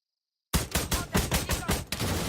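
Gunfire from a shooting video game bursts in after a moment of silence: a rapid, loud volley of about seven close shots in quick succession.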